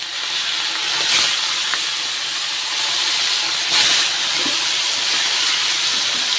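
Fish coated in salt and turmeric fries in hot oil, a loud continuous hiss and sizzle with two brief surges of spitting, close and steady, with no voices.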